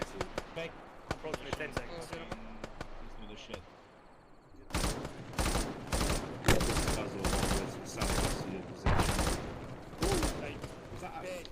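In a military video game, heavy machine gun fire pounds in repeated loud bursts of rapid shots after a quieter opening, while players talk over it.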